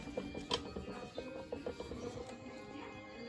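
A hand-cranked sausage maker is turned while making homemade Italian sausage, giving a quiet, uneven mechanical clicking and rattling with soft thumps over a low background hum. Faint voices are heard now and then.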